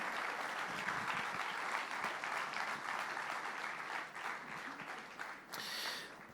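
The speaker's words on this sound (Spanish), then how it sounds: "Fuerte ese aplauso de alabanza al Señor." A church congregation applauds in praise during a service, a dense, steady wash of many hands clapping together that holds for several seconds before tapering slightly.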